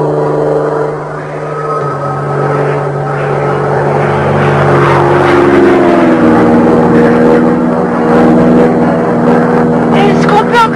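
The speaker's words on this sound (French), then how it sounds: "C'est pas un avion. Si, ça en a tout l'air. C'est quoi comme avion?" An airplane drones overhead, a loud steady engine hum with shifting tones that swells as it passes, while people talk over it.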